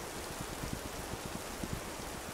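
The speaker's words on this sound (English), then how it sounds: "There has to be something in here to collect this rain" Rain falls steadily in the survival video game This Land Is My Land, a dense even hiss of drops with scattered louder patters, unbroken and without any voices.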